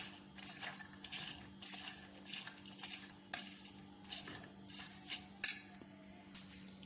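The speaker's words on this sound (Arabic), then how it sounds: "يعني الفوشار حار والحله حاره، نجي نحرك فيها كده" Hot popcorn being stirred with melting chocolate in a hot pot, giving soft repeated scraping and clinking of a utensil against the metal, steady and close, with a few sharper knocks.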